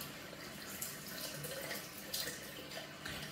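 Running water from a tap splashes and trickles as a Gillette Mach 3 Turbo razor is rinsed clean, a short, close, steady wash with small drips and gurgles.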